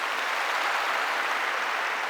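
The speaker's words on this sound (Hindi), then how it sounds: "एक बार प्लीज जोर के लिए ताली हो जाए" Sustained audience applause at a success day event in Delhi, steady dense clapping from a crowd throughout, fairly loud with no talk over it.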